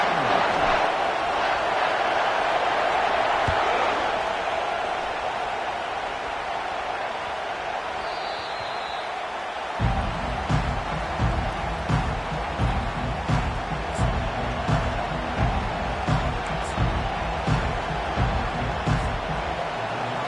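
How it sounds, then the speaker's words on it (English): A home crowd roars continuously at a college football game as the Wolverines kick off. The broad wash of noise later takes on a rhythmic, pulsing beat. "This crowd bringing an ear-splitting welcome to their visitors."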